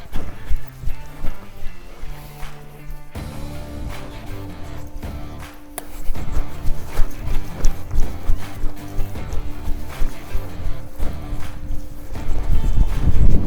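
Whiz, a horse, loping under saddle in a riding session, hoofbeats rolling in a steady three-beat rhythm alongside music-like tonal noise, fairly loud and continuous with no talk.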